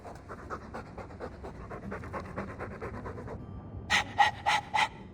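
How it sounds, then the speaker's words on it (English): Steady rhythmic dog panting from Dragon Age 2, a fast run of breathy huffs that continues throughout, followed near the end by four louder, sharper bursts with a brighter tone. "All that noisy dog breath, day in, day out."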